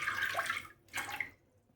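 Water is poured into a pan of soaked chickpeas for a temple offering dish, giving two close splashing bursts of pouring with a short pause between them and no talk.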